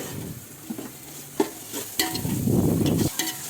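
Ginger garlic paste sizzles and spatters in a pan, with occasional scraping stirs and a louder burst of frying near the end.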